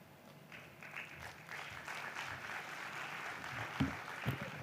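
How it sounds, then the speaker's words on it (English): Audience applause for a presenter at a digital transformation summit in Uganda, a steady wash of clapping from a hall crowd lasting several seconds, with a couple of louder claps near the end. "Can we clap for Mr. Henry one more time, ladies and gentlemen?"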